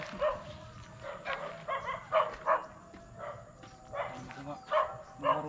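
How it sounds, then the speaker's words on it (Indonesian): A dog barks repeatedly at night near a fishing spot where anglers are after jelawat and haruan, the yips coming in short bursts through steady outdoor ambience. "Bunyi itu anjing."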